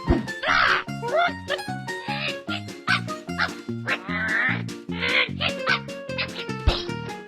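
Unused cartoon bird sound effects made for Hal, the boomerang toucan from the Angry Birds video game, come as a loud run of squawky quacks and chirpy calls in quick succession over a jingly game backing, with no talk.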